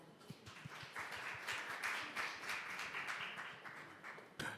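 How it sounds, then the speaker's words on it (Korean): Audience applause welcoming a presenter at a conference on cement carbon neutrality, steady overlapping clapping from a room of listeners at moderate level, with no voices over it. "여러분 따뜻한 박수로 환영해 주시기 바랍니다"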